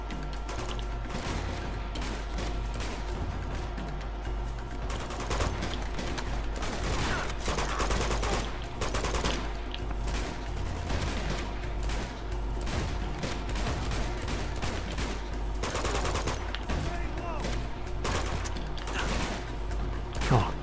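Gunfight in the action game Uncharted 2: Among Thieves: sustained rapid gunfire and bursts of shots over a steady low drone of game music, with mechanical clicks and clatter throughout at a constant, fairly loud level.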